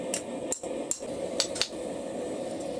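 Several sharp metallic hammer strikes at irregular intervals on hot iron being forged into an owl-shaped bottle opener, ringing briefly over a steady background hum.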